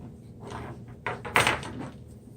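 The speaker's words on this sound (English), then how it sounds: "let me just get the door" An indoor door is opened with a thunking clack and a brief rattle of the latch and frame, close by against steady room noise.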